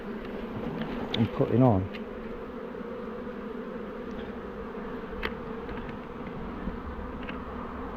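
Honey bees buzz in a steady, dense drone around a hive during swarm transfer work, with a brief louder burst of close wingbeats near the start and faint talk over the hum.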